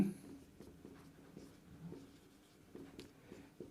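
Pen writing on paper during a maths lesson on arithmetic progressions, faint scratchy strokes in short bursts, close and quiet, with no talking over them.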